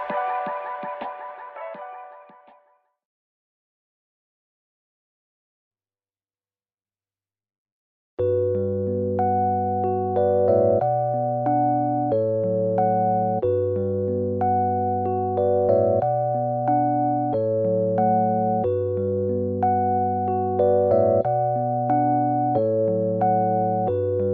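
A short burst of sound fades out, then after a pause a sustained piano intro plays steady repeating chords with a soft echoing tone.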